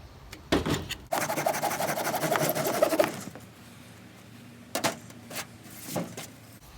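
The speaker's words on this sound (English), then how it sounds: "I'm going to cut this section out right here." A power tool cuts a section out of a round top board with a loud, buzzing two-second burst, followed by quieter knocks and scraping as the piece is handled.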